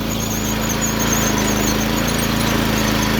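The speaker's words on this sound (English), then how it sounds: "Sound like one of the front wheels needs a little bit of grease." A steady, continuous high squeal from a dry front wheel of a mini tractor that needs grease, rising over a constant engine drone, loud and close and unbroken for the whole stretch.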